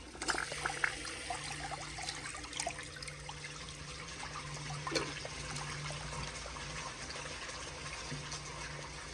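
Water trickles and swirls through the rim of a 2018 American Standard Townsend Vormax toilet after the black flapper is lifted, a steady, quiet flow with a faint low hum and no talking.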